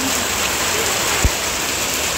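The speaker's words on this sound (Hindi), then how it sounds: "देखते ही देखते बहुत ही ज्यादा जोरों की बारिश लगने बैठ गई है" Heavy monsoon rain pours down in a steady, dense roar over a village, loud and close, with no voices.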